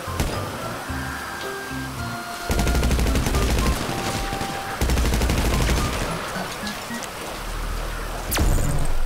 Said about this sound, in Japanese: 銃弾の雨だ。